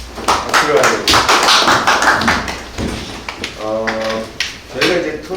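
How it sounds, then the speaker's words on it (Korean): Audience at a policy forum clapping to welcome a government official, a burst of scattered, uneven claps that thins out toward the end as a voice begins speaking. "박수를 하겠습니다."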